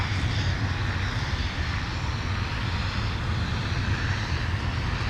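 Airliner engines roar steadily at Minneapolis–Saint Paul airport in winter, a broad, continuous rumble heard from a moderate distance with no talking.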